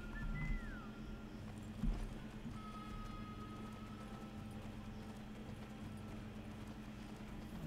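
Horse hooves clip-clop in a cowboy video game set in the Old West, a faint, steady trotting rhythm that runs throughout with a few brief tonal blips over it.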